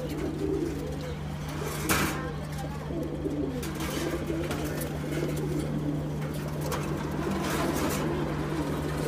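Large pigeons coo softly and repeatedly in a loft, a low steady murmur of birds throughout, with a constant hum underneath and a faint voice now and then.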